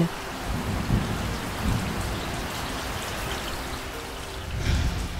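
Autumn rain patters steadily on a rug sheltering someone in the wild Alpine Arve valley, a dense, close hiss of drops with soft low rumbles and no speech.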